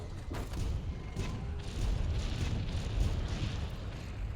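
A missile launches and explodes in the video game Monster Hunter World, a loud, steady, rumbling roar of booming blast noise that fills the whole moment with no clear pause.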